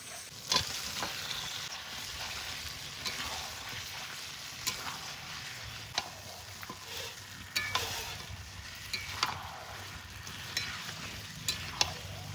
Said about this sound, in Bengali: মশলা সুন্দর করে কষিয়ে নিয়েছি, এর মধ্যেই ভেজে রাখা মাছ দিয়ে দেবো।